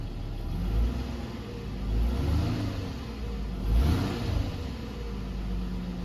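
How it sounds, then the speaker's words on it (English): A Ford AU Falcon engine idles with a low rumble, then is revved in a few swelling surges that rise and fall, heard close by without talk. "Give it a rev and see if it comes up a bit."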